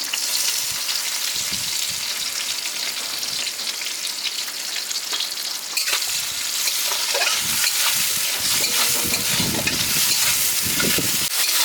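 Onion fries in a pan for a chicken soya pasta, a loud, close, continuous sizzle with bursts of crackle and stirring scrapes growing busier toward the end, with no talking.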